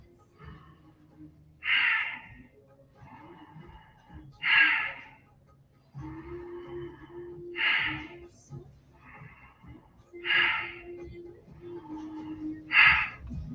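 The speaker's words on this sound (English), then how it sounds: "take a deep breath as the shoulders go up and breathe out as they come down" Deep breaths in and out during a shoulder shrug exercise, five or so loud audible exhales at regular intervals of a few seconds, close up, with quiet murmured speech between them.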